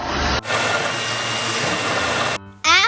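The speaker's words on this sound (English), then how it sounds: "One final sand to smooth it out." A wooden bookmark is sanded smooth with a power sander in a DIY craft session, making a steady loud whirring grind for about two seconds that stops abruptly, then a brief rising mechanical whine follows.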